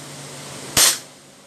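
A single sharp pop from a WE G23 airsoft pistol being test fired, one short loud shot over faint background hum.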